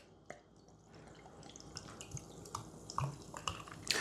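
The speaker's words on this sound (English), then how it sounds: "So, open the butterscotch soda. It's this simple. Pour it in." Butterscotch soda poured into a glass gives quiet liquid splashes, fizzing and scattered drips, faint and close, with no talking.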